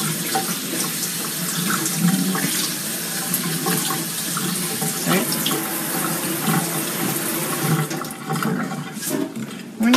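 Starchy rice is rinsed in a kitchen sink under a running tap, a steady, fairly close hiss and splash of flowing water with small irregular spatters throughout, no talking.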